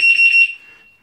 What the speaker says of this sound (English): I will push the horn. It's 1-2 beeps and the light.